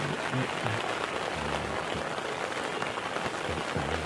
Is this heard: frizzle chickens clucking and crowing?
no